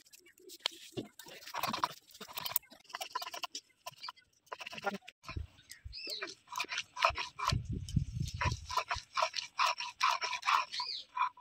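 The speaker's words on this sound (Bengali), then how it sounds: "পালং শাকে বাটনা দেওয়ার জন্য আমি জিরে বেটে নিচ্ছি।" Cumin seeds being ground by hand on a grinding stone for a spinach dish: close gritty scraping and rubbing strokes in an uneven back-and-forth rhythm, with a few low thumps midway.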